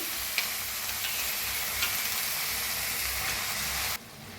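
Soaked chana dal is stirred in hot oil tempering for a ridge gourd vegetable, giving a loud, continuous sizzle with occasional scraping ticks of the spoon, ending abruptly as the frying quiets.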